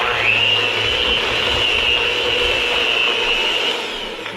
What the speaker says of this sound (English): Now we're gonna take our mixer and we're gonna mix the eggs in there with the butter and sugar.